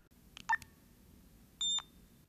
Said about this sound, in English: one high pitch beep